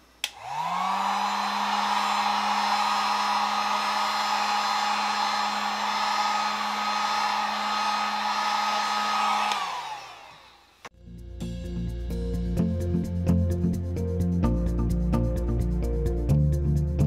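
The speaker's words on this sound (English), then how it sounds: "we're going to use the low setting of a heat gun because we don't want a lot of air pushing on that" Heat gun on its low setting blowing over acrylic pour paint: a steady whirring blower hum runs close and loud for about ten seconds, then winds down and gives way to music.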